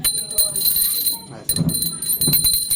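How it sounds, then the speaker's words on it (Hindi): A hand bell rings repeatedly through a home Diwali aarti for Lakshmi. Bright metallic ringing carries over people talking and chanting nearby. "घंटी बजाना बेटा।"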